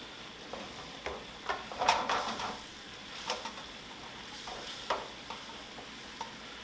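Cream sauce with cilantro being stirred in a pan, soft sizzling under a series of scraping utensil strokes and light taps, close and moderately quiet.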